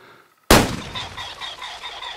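A single sharp .22 rifle shot aimed at a pheasant in the hunting video game Way of the Hunter, a loud crack followed by a decaying ring and faint rhythmic chirping, with no voices.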